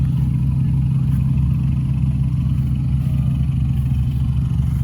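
Infiniti Q50 stock exhaust idling nearby, a steady low burble with a strong, even hum and faint clatter, unchanging throughout with no voices.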